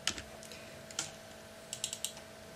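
Typing a SUM formula into an Excel spreadsheet on a computer keyboard, a few sparse, light key clicks in small bursts, close and quiet over a faint steady hum.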